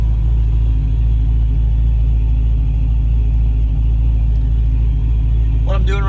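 Supercharged Foxbody Mustang fitted with a mechanical fan, idling with a deep steady low rumble that stays constant throughout, then a voice breaks in briefly at the very end.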